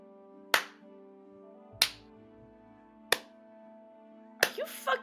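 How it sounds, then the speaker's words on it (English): Four single, sharp hand claps are spaced slowly, about a second and a quarter apart, in a sarcastic slow clap during a tabletop role-playing game session. Each clap rings out crisply over a faint steady hum. "sarcastic slow clapping"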